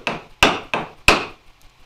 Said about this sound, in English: Each time I pry some out, it gets deeper.